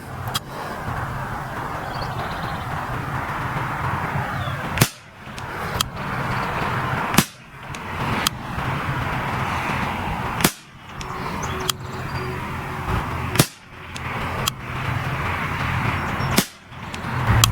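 Ruger 10/22 rifle firing outdoors: about seven sharp, loud cracks spaced irregularly a second or few apart, each cutting through a steady background hiss.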